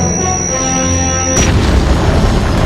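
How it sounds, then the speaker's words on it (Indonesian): A missile explodes in a film scene. A sustained tone cuts off abruptly and a deep, loud boom follows, its rumbling blast filling the remaining seconds. "One of our missiles just accidentally blew up in North Dakota"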